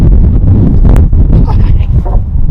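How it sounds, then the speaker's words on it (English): Strong, cold wind buffets the microphone outdoors at a site where tiny homes for senior dogs are being built, giving a loud, continuous low roar with gusting surges while people talk and exclaim over it. "Oh, that wind is brutal!"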